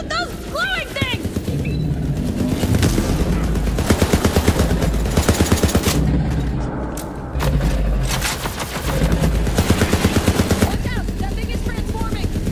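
Bursts of automatic gunfire from Borderlands 3, loud rapid volleys with explosive booms, repeating in long stretches, with someone shouting over the shooting.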